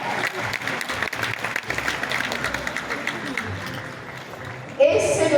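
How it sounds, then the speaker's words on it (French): An audience at an awards ceremony for African and Senegalese series applauds the jury with dense, sustained clapping from a large crowd, followed by a voice over a microphone near the end. "merci de les applaudir encore"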